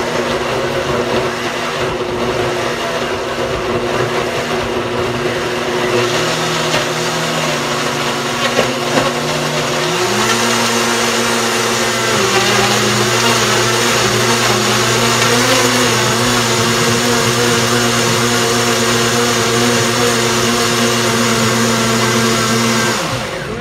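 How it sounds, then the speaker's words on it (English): Blender running continuously, blending sofrito ingredients with a cup of oil for Puerto Rican recaito; a steady loud motor whine that shifts pitch midway as the load changes. "We're gonna start blending our sofrito."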